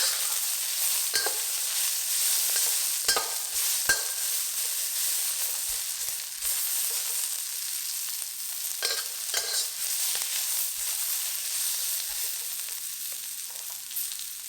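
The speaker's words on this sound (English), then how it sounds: "Fry them till the onions are softened." Onions for a squid stir-fry sizzle and soften in a pan. A steady, moderate frying hiss runs throughout, broken by occasional stirring scrapes and clinks.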